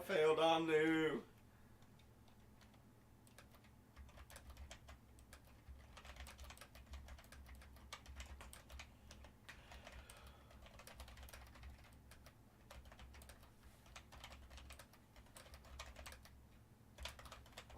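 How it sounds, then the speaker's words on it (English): Someone types on a computer keyboard during a casual podcast, producing quiet, irregular clicks and key taps in steady bursts after a brief loud moment at the start, with a low room hum underneath. "Sorry, I'm typing, guys."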